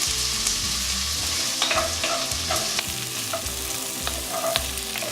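Onions and about three cloves of garlic frying over medium heat for cowboy chili, a steady close sizzle broken by repeated scraping stirs of the pan, with no talking.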